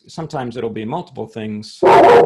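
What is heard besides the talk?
dog barking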